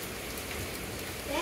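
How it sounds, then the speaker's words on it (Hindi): Steady rain falls and patters on surfaces, a dense, even wash of sound at moderate level that swells slightly at the end. "बारिश हो रही है"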